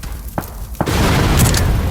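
A car blows up in a shooting video game. Two sharp pops come first, then a loud, close blast that swells into a sustained, roaring rumble lasting to the end.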